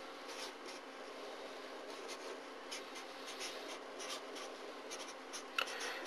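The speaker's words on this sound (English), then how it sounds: "So let's write down the first one." Pen writing out a maths polynomial on paper, a soft continuous scratching with short strokes and pauses, close and quiet, with no talking.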